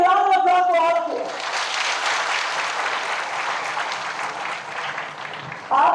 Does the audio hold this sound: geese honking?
no